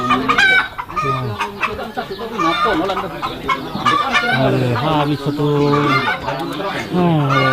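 Chickens and roosters cluck continuously nearby, with crowing mixed into the busy, loud flock noise, while a person speaks briefly over it.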